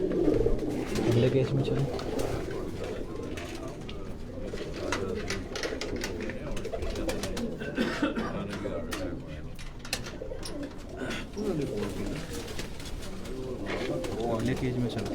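Caged pigeons kept by a Quetta breeder coo and flutter close by in repeated low throaty calls, while someone talks over them throughout.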